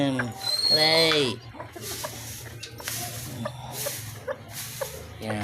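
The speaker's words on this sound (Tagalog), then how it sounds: "nagpisa na ang alaga natin bantam" Newly hatched bantam chicks from a giant silky hen give a loud, close, high rising peep at the start, then softer, repeated cheeping and rustling continues alongside low background noise.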